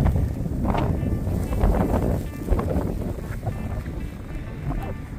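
Strong snowstorm wind gusts roar and buffet the microphone outdoors at night, rising and falling in loud rushes with low rumbling throughout, no clear talk over it.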